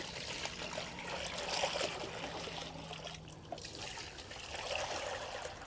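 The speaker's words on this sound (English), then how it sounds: "Let me dump this water over here." Water is dumped out in a chicken coop, making a steady splashing trickle that runs for several seconds at close range with no talking.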